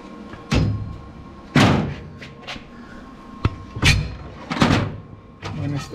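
Several metallic clanks and thuds at irregular intervals, a steel swing-out roll cage door bar on a 1955 Chevy swinging and knocking against its frame, with quiet shuffling between hits.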